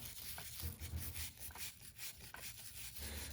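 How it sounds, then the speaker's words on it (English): A plastic brush scrubs powdery carbon off a paramotor engine's cylinder head in quick, repeated rubbing strokes. It is close and fairly quiet, with no talk. "Using a plastic brush, we're going to go ahead and get this carbon off the head."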